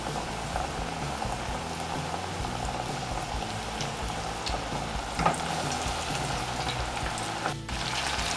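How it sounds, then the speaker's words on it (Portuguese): Breaded chicken cubes, made without wheat flour or eggs, deep-fry fully submerged in hot oil, giving a steady bubbling sizzle with occasional soft pops and a brief clink near the end. "Nós vamos estar colocando aqui agora os cubinhos de frango para fritar."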